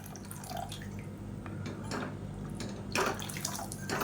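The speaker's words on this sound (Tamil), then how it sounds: "தேவையான அளவுக்கு தண்ணி சேர்த்துக்கோங்க" Water pours and splashes into chutney simmering in a pan, soft close trickling and dripping sounds over a low kitchen background, with a brief louder splash near the end.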